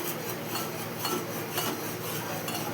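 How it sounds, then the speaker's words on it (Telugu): A utensil stirs salt into boiling water in a cooking pot for upma, giving a steady scraping, swishing rhythm with faint clinks against the metal over the bubbling water. "సాల్ట్ వేసుకొని కలుపుకోవాలి బాగా"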